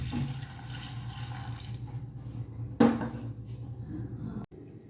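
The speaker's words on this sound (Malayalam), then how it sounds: "ആവശ്യത്തിനുള്ള വെള്ളം ഒഴിച്ചു കൊടുക്കാം" Water runs steadily into a pot of pineapple pulissery for a few seconds, with a brief clatter partway through, then the flow eases and stops.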